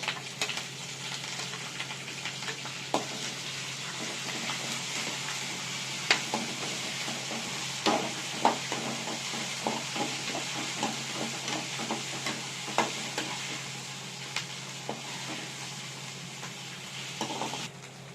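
Green chilli, ginger-garlic paste and curry leaves frying in a pan for masala semiya, a continuous soft sizzle with scattered clicks and scrapes of stirring, no talking.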